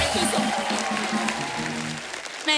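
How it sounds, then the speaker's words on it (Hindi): Studio audience applause on a comedy talk show, loud continuous clapping with cheering and voices mixed in, tailing off briefly near the end. "तालियां खुल के होनी चाहिए।"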